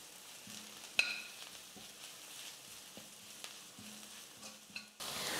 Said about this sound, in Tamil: இப்போ இதெல்லாத்தையும் சேர்த்து நல்லா ஒரு 2 நிமிஷத்துக்கு நான் வதக்கிக்கிறேன்